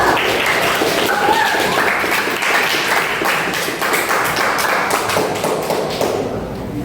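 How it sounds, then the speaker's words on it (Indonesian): Schoolchildren in a classroom clap together for several seconds, a dense, fairly loud patter of many hands that gradually thins and fades near the end, with faint voices mixed in. "Kita tepuk tangan dulu ya."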